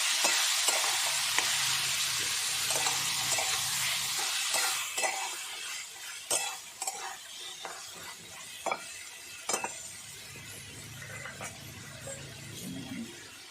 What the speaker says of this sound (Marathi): काढलेलं मटण घालायचं परतून घ्यायचं